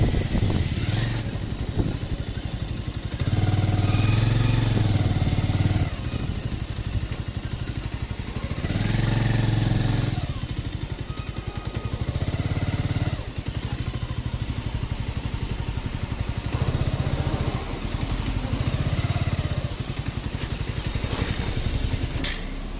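Motorbike engine running steadily on a night ride through jungle in Meghalaya, a mid-pitched drone with rising and falling revs, close and continuous throughout with no talk.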